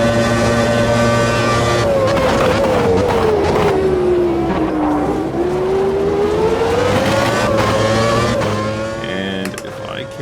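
A race car in the sim racing game Automobilista 2 roars loud and close, its engine pitch sliding down steadily under heavy braking and then climbing again as it accelerates, with a brief clunk near the end.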